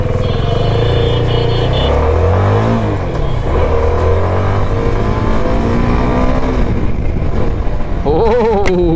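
CFMOTO 250SR motorcycle engine running while riding, a loud continuous drone with rising and falling pitch sweeps as it revs, with a brief sharper burst near the end.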